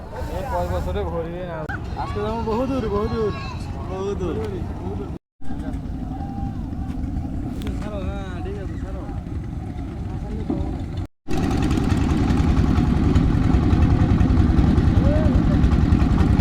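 A boat's engine chugs steadily while crossing a river at Balashighat, a continuous loud drone heard under people talking, with two brief dropouts in the sound.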